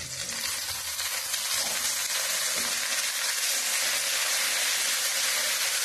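Gongura (sorrel) leaves sautéing with onions in a pan give a steady, dense sizzle and hiss of frying, close and continuous throughout, with no voices.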